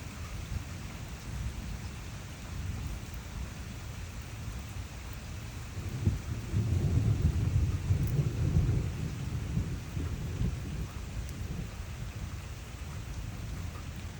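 A garden thunderstorm with continuous rain hissing on surfaces and a deep rumble of thunder rolling in around the middle, swelling for several seconds before easing back into steady rainfall.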